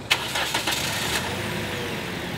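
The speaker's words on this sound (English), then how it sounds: "we're gonna start the car and turn the AC on full blast" A car engine cranks and catches with a few sharp bursts at the start, then settles into a steady mid-pitched idle nearby.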